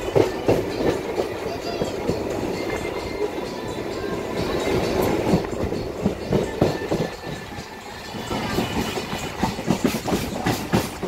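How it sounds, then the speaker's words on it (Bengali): A Kolkata metro train runs at a station near Dum Dum, its steady rumble and rhythmic wheel clatter continuing throughout at close range, with a person talking over it. "এই দেখো সেই মেট্রো"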